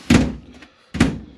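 An interior door in a 2013 Keystone Copper Canyon 333FWFLS fifth wheel trailer, parked slightly off level, closes with two dull, solid thunks about a second apart, close by and fairly loud.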